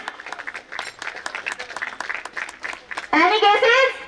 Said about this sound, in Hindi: प्लीज तालियां बजाते रहिए